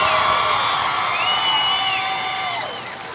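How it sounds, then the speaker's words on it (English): A stadium crowd at a Class A state championship high school football game cheers loudly, with dense overlapping whoops and shrill yells holding steady before easing slightly near the end. "let's give both of these teams a big round of applause for an outstanding game of great football"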